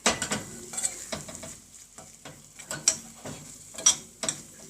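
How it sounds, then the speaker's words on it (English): Chili, mustard and ginger hot sauce being stirred in a pan, with a spoon scraping and clicking against the pan in irregular strokes over a soft sizzle, close and alone. "Stir it a little bit."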